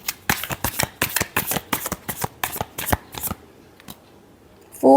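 Tarot cards being shuffled, a rapid run of about a dozen crisp riffling snaps at an even rhythm, close and clear, then a brief quiet pause before a short clatter at the end.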